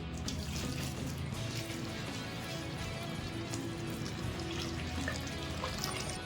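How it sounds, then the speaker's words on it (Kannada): Heated water poured into about a kilogram of idli rava, a steady close-up splashing rush that continues unbroken without talk. "ಕಾಯಿಸಿಕೊಂಡಿದ್ವಲ್ಲ ನೀರು, ಅದನ್ನು ಹಾಕ್ಕೊತಾ ಇದ್ದೀನಿ."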